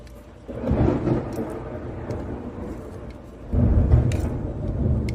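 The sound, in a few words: thunderstorm with thunder and rain in Houston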